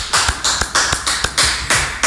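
Rhythmic clapping in tribute to a music producer, about eight sharp evenly spaced claps, close and loud, each with a short ringing tail, with no one talking.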